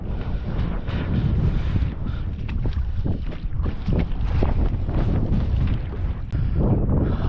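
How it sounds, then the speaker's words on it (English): Wind buffets a sailing boat on the water, giving a loud, continuous rumbling roar with gusty bursts and microphone rustle, heard up close. "this wind is just pissing me off"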